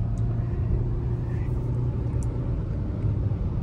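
Car cruising at about 100 km/h on Dwarka Expressway between Gurgaon and the airport, heard from inside as a steady low road rumble and engine drone.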